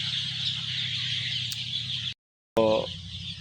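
Four-day-old Sonali chicken chicks peep over a steady hum of background noise, which cuts out briefly before a short burst of calls returns.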